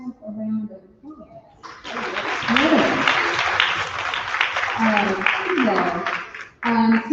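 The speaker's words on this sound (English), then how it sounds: "I'm going to ask you to give yourself a round of applause." Audience at a rally against the state takeover of Jackson's water system breaks into loud sustained applause with cheers, after someone speaks briefly; the clapping fades and a voice returns at the end.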